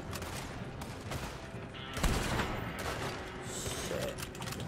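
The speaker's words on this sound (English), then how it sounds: "Shoot them, Arthur, before they blow us to high hell!" A Red Dead Redemption 2 shootout brings a dense, continuous fusillade of gunshots mixed with mechanical clattering, steady and fairly loud throughout.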